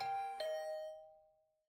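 A two-tone doorbell chime rings once in the video game The Hundred Line -Last Defense Academy-, a ding followed by a sustained dong that fades out slowly, clear and alone.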